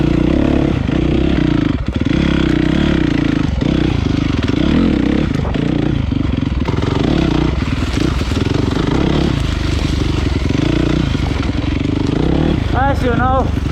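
Honda CRF 450 dirt bike with an HGS exhaust ridden over rough terrain, a loud, continuous engine roar with shifting revs and clatter throughout, a person talking over it.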